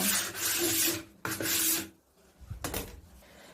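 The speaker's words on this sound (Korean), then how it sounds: "세심하게 사포질을 해줍니다." Sandpaper rasps across the wood of an old dressing table in three separate strokes, two long, steady passes followed by a shorter scrape, close and fairly loud.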